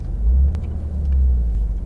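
A Porsche GT3 rumbles as it pulls out toward a staging area at a racing venue, a deep, steady low engine drone swelling gently twice, close and loud with no speech.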